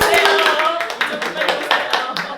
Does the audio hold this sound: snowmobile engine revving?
no